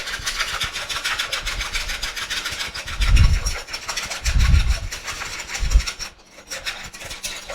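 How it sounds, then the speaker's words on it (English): Whisking salad dressing ingredients of oil, salt and pepper in a bowl gives a fast rhythmic scraping swish, close and steady, with a few soft thumps of the bowl. "I'm going to go ahead and start to whisk these ingredients together."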